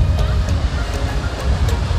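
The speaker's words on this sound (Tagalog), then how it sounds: "Medyo malakas na ang alon." Rough, continuous roar of sea waves at a beach with gusty wind buffeting the microphone, loud and close.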